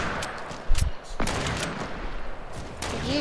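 Gunfire in the video game Fortnite, with a loud, sharp shot followed by a scatter of quicker bursts over a busy background.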